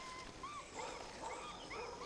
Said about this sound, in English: Dogs are barking in the distance.